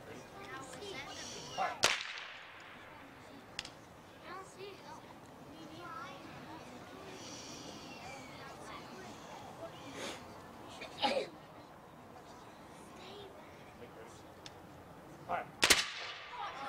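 Rifle volley salute fired at a Veterans Day parade in Somers, New York: two sharp, loud cracks about fourteen seconds apart, outdoors with crowd murmur and distant commands between them.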